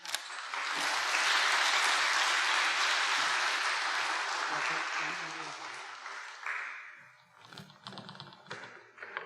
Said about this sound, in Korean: 우리 한번 박수 한번 해주시면 좋겠어요